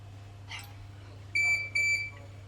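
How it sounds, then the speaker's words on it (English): A Kerong handset machine gives two short, clear electronic beeps in quick succession, with a faint background hum and no talking. "Beep 3 means limited public mode. Beep 1 means public mode."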